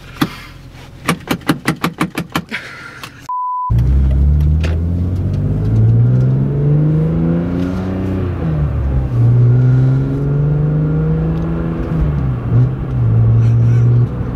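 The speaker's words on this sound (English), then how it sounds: "This car has been idling for quite a long time." A manual BMW 335i engine runs with a deep, steady burbling rumble, its pitch dipping and rising slightly. It is preceded by a quick series of clicks and a short beep, and the engine sound is close and loud throughout.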